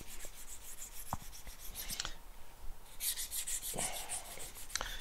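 A leather edge is rubbed smooth by hand with a small tool in a saddlery workshop, giving close, dry rasping strokes in short repeated passes with a few light knocks between them.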